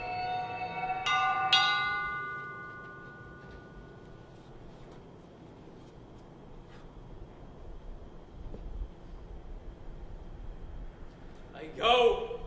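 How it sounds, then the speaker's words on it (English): A bell rings twice in a high school stage production of Macbeth, two bright metallic strikes early on that leave a long fading ring, followed by quiet room tone and a faint sound at the end. "The bell invites me."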